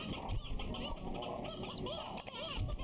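Chickens, roosters and hens, cluck softly in a video game, continuous low clucking over a dense game soundscape.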